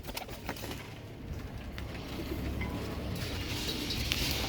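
Kal Duma pigeons coo softly amid a steady broadband hiss, the calls faint and distant with scattered short clicks, no voices present.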